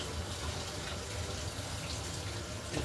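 Tap water runs steadily from a kitchen faucet as a drinking straw is rinsed under the stream, a continuous close gushing splash with no talk.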